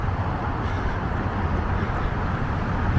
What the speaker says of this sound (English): If you hear the cars, that's the I-5 freeway.